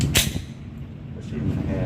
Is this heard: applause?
no